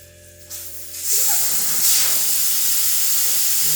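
Air hisses steadily out of a tire being removed during a truck repair, a broad continuous rush that swells after the first second and keeps going to the end with no talk.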